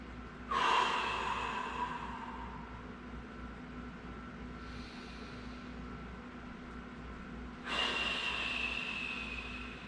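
Two deep, audible breaths during a stretching class, each a broad rushing inhale or exhale lasting a couple of seconds, separated by a quieter pause with faint room hum beneath.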